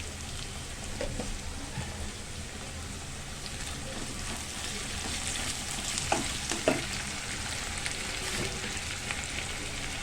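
Ginger garlic paste sizzles steadily in a pan for an aloo curry, a dense, continuous fry with a few sharper pops and scrapes partway through, close and fairly loud with no talking.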